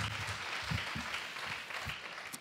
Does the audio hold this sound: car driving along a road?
no